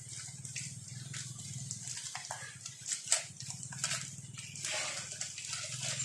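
Water gushing from a hose onto the walls of a pig pen during disinfection, a steady hissing splash that varies as the stream moves, fairly faint and heard alone.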